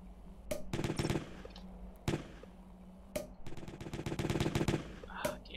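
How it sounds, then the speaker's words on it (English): A cake gun firing in the comedy game Jazzpunk, with fast rattling bursts of gunfire-like shots in several volleys separated by single sharp pops, fairly faint overall with a low background hum. "Ah, it's a priest! Ah, he's got a cake gun!"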